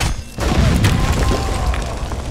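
Explosion blowing up a floor in the Conan Exiles video game, a loud deep boom that hits suddenly and rumbles on with sustained crashing noise, no talking.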